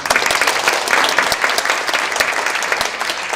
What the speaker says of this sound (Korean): 다시 한번 더 뜨거운 박수 부탁드리겠습니다